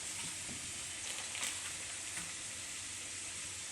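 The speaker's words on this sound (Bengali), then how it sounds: "এই যে আলুটা ভাজা হয়ে যাচ্ছে" Potatoes frying in a pan produce a soft, steady sizzle and hiss with a couple of faint stirring touches, fairly quiet and with no talking.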